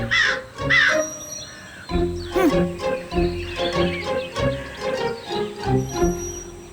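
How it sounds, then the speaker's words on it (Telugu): Several cartoon crows caw for a Telugu children's fox-and-crow story, a noisy flock of harsh, overlapping calls repeating in close, loud bursts with only brief gaps. "ఈ కాకుల గోల నేను తట్టుకోలేకపోతున్నాను."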